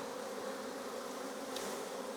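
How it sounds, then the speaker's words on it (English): Honey bees buzz steadily at an opened hive during a queen check, a dense, continuous hum close by, with no talking over it. "We're gonna have bees whenever it flows over. They're grouchy."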